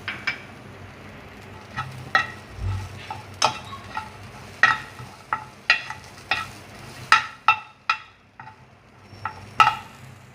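Diced capsicum fries lightly in a pan while a spoon stirs it, making repeated sharp clacks and scrapes at an irregular pace over a soft, low sizzle.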